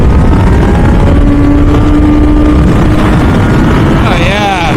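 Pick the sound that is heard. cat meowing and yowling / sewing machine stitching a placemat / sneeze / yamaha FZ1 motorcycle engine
yamaha FZ1 motorcycle engine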